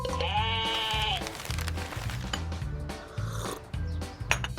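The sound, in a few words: sheep bleating on a farm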